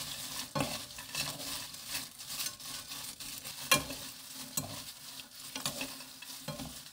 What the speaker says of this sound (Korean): 노릇하게 볶아줍니다.